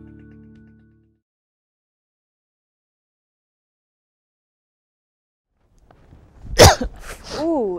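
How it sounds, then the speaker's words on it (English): A single abrupt cough bursts out near the end after several seconds of near silence, followed by a short pained vocal groan. "Oh, my cough hurt."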